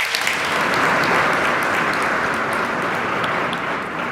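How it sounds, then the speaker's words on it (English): Sustained, loud audience applause at a State of the State address, dense clapping filling the hall for the Lieutenant Governor, steady throughout with no one speaking over it. "Let's give him a round of applause."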